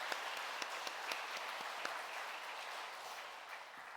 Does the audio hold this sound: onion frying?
no